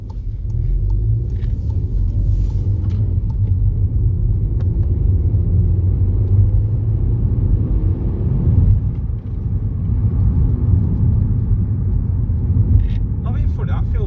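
A Seat Ibiza 1.2 TSI fitted with a plug-in race chip accelerates, heard from inside the cabin as a loud, steady low engine rumble and road drone, with a person talking over it.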